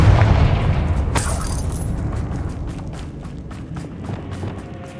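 A Confringo blasting spell explodes on a damaged bridge in the Hogwarts Legacy video game. A heavy boom opens the sound, then a long rumbling decay follows, with scattered debris clatter and faint footsteps.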